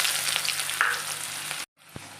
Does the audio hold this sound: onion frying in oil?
yes